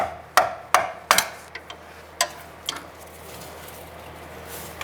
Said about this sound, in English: I'm simply going to use a small pry tool. I'm going to go ahead, put it in there, and give it a few bonks with the hammer